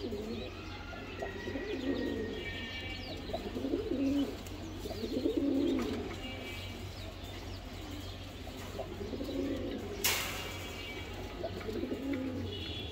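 Domestic pigeons, including Gorra and Chila breeds, cooing in soft, low repeated murmurs, with faint chirps and a sharp click partway through, steady background hum.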